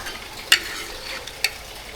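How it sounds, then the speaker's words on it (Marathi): Fried bombil fish is lifted out of a pan onto a plate over a wood-fired stove, two sharp utensil clicks standing out against a soft, steady sizzling hiss. "तर हे बोंबील जे फ्राय होते ते आता आई प्लेटमध्ये काढते"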